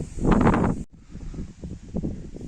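Gusty wind over an open field buffets the microphone in loud rough bursts, dropping out briefly, then returning weaker with rustling flutters.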